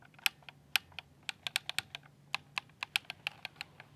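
Lower trigger buttons on an old gamepad being pressed, a series of sharp plastic clicks in an uneven rhythm, close and fairly quiet, with no talking.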